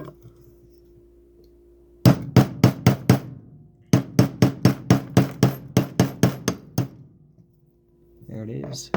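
Sharp metallic hammer strikes drive a pin back through a flip key blade on a small repair station, a quick run of about six blows, a pause, then roughly a dozen more in steady rhythm, close and loud.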